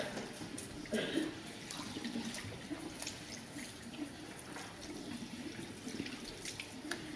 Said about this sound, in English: And then rinse it out, make sure all of the colour, shampoo and conditioner are out of the hair